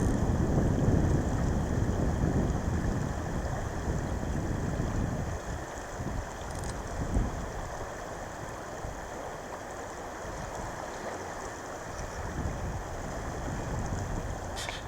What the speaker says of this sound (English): the wind's kicking up pretty good now